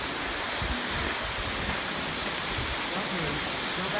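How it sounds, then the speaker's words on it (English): Steady broadband roar of a waterfall heard from its base on a hiking trail at Petit Jean and Mount Nebo, a continuous close rushing wash with no breaks. "So we're down here at the bottom of the waterfall."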